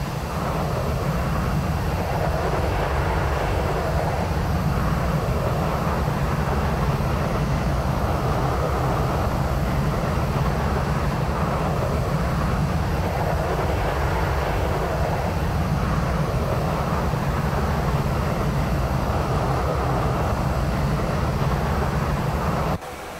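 Boeing 737 engines in flight in the X-Plane 11 simulator, a steady broadband roar with a constant low rumble filling the whole stretch, loud and unchanging with no voices.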